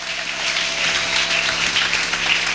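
A church congregation claps in sustained, dense applause to welcome a guest, a steady wash of many hands filling the room.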